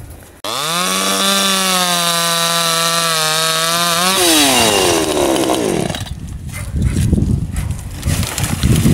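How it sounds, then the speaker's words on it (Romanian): A chainsaw cutting thick branches of an overgrown apple tree: the engine roars up to a steady high whine, then bogs down as the chain bites into wood, close and loud. "voi aduce drujba."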